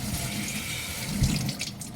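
Tap water runs steadily into a sink while a bamboo microfibre cloth is rinsed by hand, a continuous close splashing stream with slight swells as the cloth moves.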